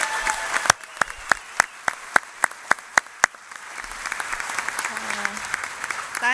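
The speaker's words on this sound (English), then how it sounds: "Could we please give a hand of applause to the BC3 nursing batch of" Audience applause at a registered nurses' pinning ceremony for a graduating nursing batch, opening with sharp, evenly spaced single claps that swell into a sustained wash of crowd clapping, with a voice faintly audible underneath.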